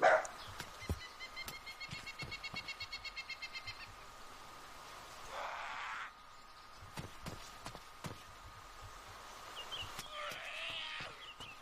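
In the DayZ video game, a dog barks in short repeated bursts at a distance, fairly faint against a quiet outdoor ambience, with a few sharper single calls later and no talk.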